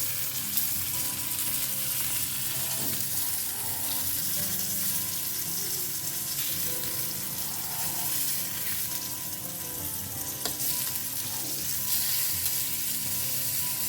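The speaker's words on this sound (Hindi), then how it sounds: "ओके, अब दूसरे साइड को भी बढ़िया सा ब्राउन कलर आने तक हमें इसे फ्राई करना है।" Stuffed mackerel, Goan bharillo bangado, fries in a pan after being flipped, giving a dense, continuous hissing sizzle that stays loud and even throughout with faint scrapes now and then.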